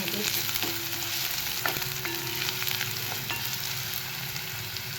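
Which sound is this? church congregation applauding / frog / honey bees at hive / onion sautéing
onion sautéing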